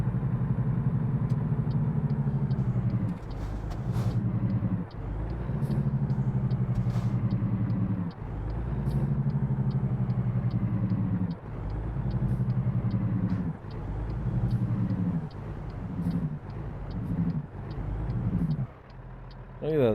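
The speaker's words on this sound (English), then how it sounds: "the Jake brake is damn near gonna stop us completely" Heavy truck engine braking in American Truck Simulator, a deep rumbling drone that repeatedly swells and drops off in pulses over twenty seconds, steady and close.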